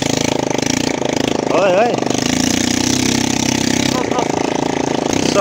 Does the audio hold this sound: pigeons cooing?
no